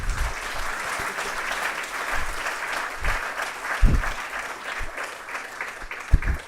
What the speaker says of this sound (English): I thought you were going to clap for that.